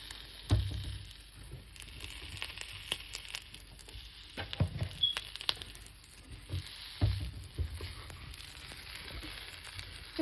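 Shrimp sizzle and crackle steadily in a hot frying pan, with scattered pops and the scrape of stirring close by.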